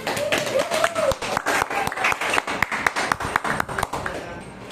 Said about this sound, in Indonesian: Ya, silakan duduk, beri tepuk tangan.